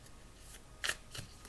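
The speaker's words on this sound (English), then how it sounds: "On 3 shuffles, please" A deck of tarot cards is shuffled in a few crisp riffles, soft and close, each burst of flicking papery snaps separated by short pauses.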